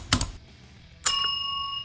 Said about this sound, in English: ring the notification bell